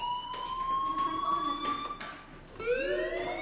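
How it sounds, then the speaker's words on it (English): A fire alarm rings in the video game Life is Strange, a steady electronic tone that rises slightly in pitch, repeats in cycles, and sounds moderately quiet and somewhat distant. "Hey, do you hear that fire alarm?"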